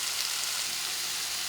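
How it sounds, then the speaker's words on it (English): Lamb sizzles and sautés in a pot of water, giving a steady, close hiss of frying that runs unbroken throughout with no talking. "we're sauteing our meat in water"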